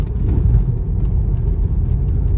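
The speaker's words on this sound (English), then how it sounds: "Why should my car shake so much?" A car drives over a rough, badly kept road, a loud low rumble and jolting drone from the cabin with no voices.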